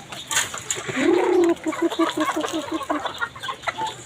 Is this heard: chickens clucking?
yes